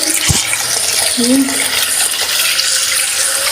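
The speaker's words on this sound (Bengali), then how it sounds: "আমি মাংসটা ভালো করে ধুয়ে নিতেছি" Duck meat being washed in water at a kitchen sink, with a steady running-water wash and a few brief clinks and splashes close by, no talking.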